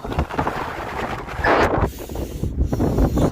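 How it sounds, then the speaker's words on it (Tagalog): Strong wind buffets the microphone while riding a Honda Click 125 scooter near Malico, San Nicolas, Pangasinan, a loud continuous roar with gusty surges and no talking. "Sobrang lakas ng hangin."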